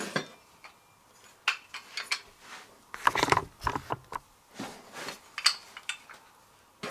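A hand strap trailer winch ratchets in a quiet space, with a run of sharp, distinct clicks at an uneven pace, some close together and some spaced apart.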